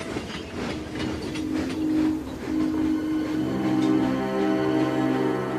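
A tank engine hauling a long line of trucks, steady clickety-clack of wheels on rails with a rising horn or whistle tone toward the end, moderately loud and without talk.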